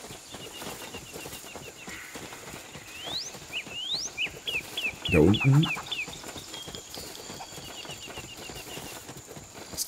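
A bird sounds in the video game Dawn of Defiance: a short series of high, thin chirps and rising whistles repeats several times at moderate distance, while a voice briefly talks under it.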